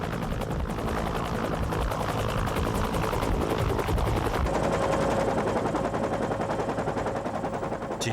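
A Cobra attack helicopter flies low on a tactical training run. Its rotor thump runs steady the whole time, with rapid bursts of machine-gun fire rattling over it, loud and continuous, and no talk.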